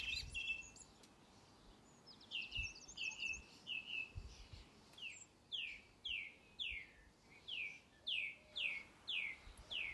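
Birds sing in a forest, a repeated series of bright descending chirps in a steady rhythm, fairly faint and somewhat distant over quiet background hiss.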